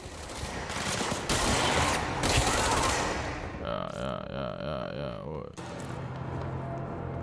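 Sustained machine gun fire roars in the video game Control for about three seconds, followed by humming, warbling game effects and lingering noise.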